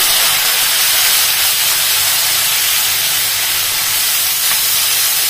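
Field bean pods hit hot oil with cumin and mustard seeds for a dry vegetable dish, making a loud, steady, close sizzle that holds evenly throughout.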